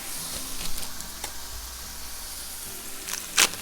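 Smash burger patties sizzle steadily on a hot griddle while being topped with American cheese, a quiet continuous frying hiss with a few faint clicks and a sharp tap near the end.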